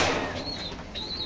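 Racing pigeons give short, soft coos up close, with a faint rustle of wings and bodies behind them in a brief, busy loft setting.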